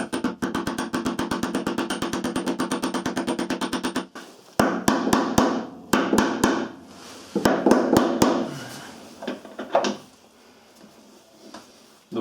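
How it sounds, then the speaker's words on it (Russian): An old bearing used as a mandrel is hammered onto a new bearing in a Samsung Digital Inverter washing machine, giving a rapid run of sharp metallic strikes followed by slower, spaced blows, close and loud, with no talk. "Аккуратненько ставим его на площадь и забиваем."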